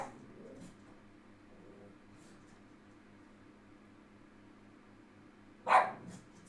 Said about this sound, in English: I will have to check what my dog is barking about.